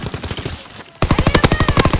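A machine gun in Call of Duty WWII fires rapid, steady automatic bursts, starting faint and distant before a much louder, close stream of evenly spaced shots takes over, with no voices.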